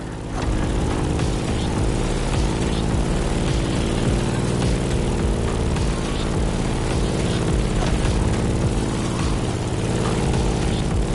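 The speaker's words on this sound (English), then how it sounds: "In the cockpit of a stunning Grumman FAF Bearcat, or simply the Bear." A Grumman F8F Bearcat propeller fighter flies past with a steady, loud, buzzing engine drone that holds throughout with no voices.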